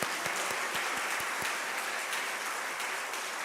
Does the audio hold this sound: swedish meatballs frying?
no